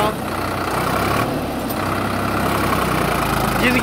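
A Sonalika DI 50 DLX tractor with 24 speeds runs in third gear, giving a steady, loud diesel engine drone throughout at close range.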